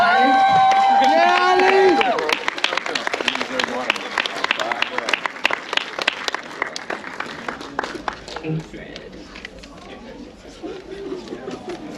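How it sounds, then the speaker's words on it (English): An event audience claps and cheers, with a loud burst of music and voices at first giving way to scattered handclaps that thin out and fade, talk heard over the clapping. "Ladies and gentlemen, give him a round of applause."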